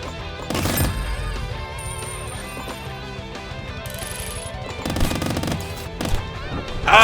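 Rapid bursts of gunfire from a bullet-shooting pine cone weapon wielded by a squirrel in a video game, loud repeated volleys with dense layered game sound effects and music between them.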